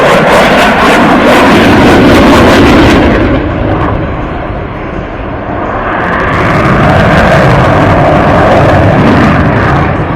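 An Italian Air Force Eurofighter Typhoon jet flies an air show display at Radom, Poland, its loud roaring engine swelling close, fading briefly as it turns away, then building again into a powerful rumble.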